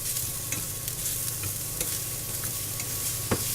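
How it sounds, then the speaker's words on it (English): Green beans and mushrooms tossed and stir-fried in a pan give a steady close sizzle with repeated scraping and stirring strokes, with no voices. "Just toss these around."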